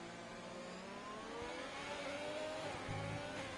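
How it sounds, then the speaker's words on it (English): An F3 car engine in a racing video game whines and revs steadily at moderate volume, the pitch rising and falling slightly over a continuous drone. "Revving the engine quite a bit"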